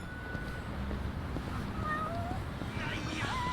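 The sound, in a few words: cat meowing in the video game Yakuza: Like a Dragon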